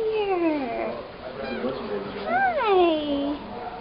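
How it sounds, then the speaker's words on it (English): A kitten that resembles a Siamese cat meows loudly at close range in an adoption setting, several drawn-out rising and falling cries, with someone talking nearby. "He looks like a Siamese cat."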